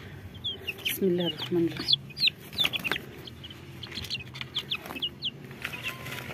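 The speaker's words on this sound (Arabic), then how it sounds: "هنطلع طبعا ايه الكتاكيت البلدي بتاعتنا النهارده" Young baladi chicks cheep on a rooftop, giving repeated thin, high peeps in quick bursts. A person speaks softly among them.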